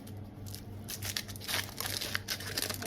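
Frozen Creme Eggs being unwrapped from their foil wrappers, close crinkling and tearing of foil in quick bursts over a faint background hum.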